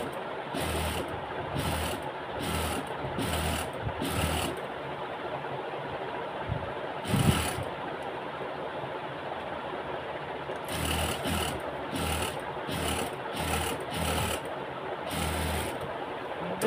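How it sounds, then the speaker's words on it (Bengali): A sewing machine stitches a garment collar in bursts of fast, rhythmic whirring, several short runs separated by pauses and then a longer cluster of runs, fairly close and alone. "আমি সেলাইটা দিয়ে দিব।"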